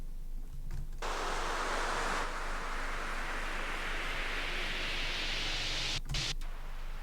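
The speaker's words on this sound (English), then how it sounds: "lots of long sweeps that are basically like white noise" A long hiss of white noise sweeps upward in brightness over several seconds, steady and alone, with brief gaps near the start and near the end.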